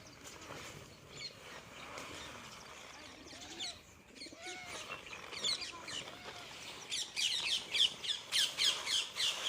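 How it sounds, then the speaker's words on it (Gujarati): Pigeons coo and squawk close by, with flapping and pecking sounds that grow busier and louder toward the end. "અત્યારે જો કેટલા કબૂતર આવે છે"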